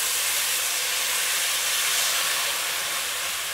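Steam hisses from a hot pan of frying chicken after a little water is added for a chicken stew with potatoes. A broad, even rush of hissing, close and fairly loud, runs without a break and with no voices.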